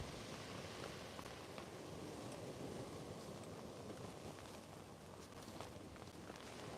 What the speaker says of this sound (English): So the rain started, and so is the wind.